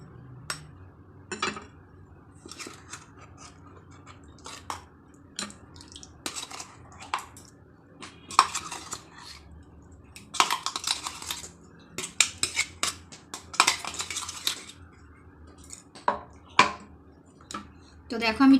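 A spoon mixes coconut paste into milk in a bowl, giving intermittent clinks and scrapes against the dish at an irregular rhythm, close and moderately loud, with quiet background noise between strokes.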